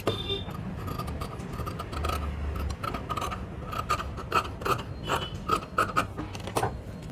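Scissors snip through blouse fabric during tailoring. The close, rasping cuts come in a steady series of short strokes, louder and quicker toward the end, with no talk over them.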